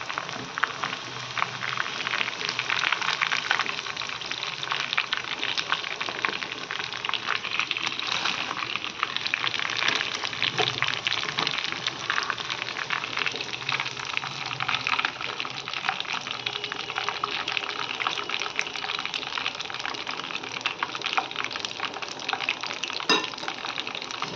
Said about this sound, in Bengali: পুরোটা লাল লাল ভাজবো না, হালকাই ভাজবো এটা